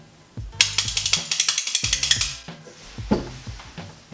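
Spoons played as percussion against the thigh give fast, rhythmic metallic clacks in quick bursts. A steady run of sharp clicks is followed by a pause, then a few scattered taps, all close and fairly loud.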